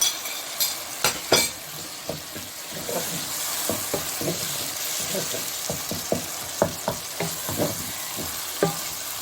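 Mutton mince frying in a prepared masala for a zucchini dish, a constant close sizzle with repeated spoon strokes scraping and tapping the pan at a steady pace.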